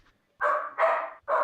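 A dog barks three times in quick succession, loud and close, with short gaps between the barks and no talk over them.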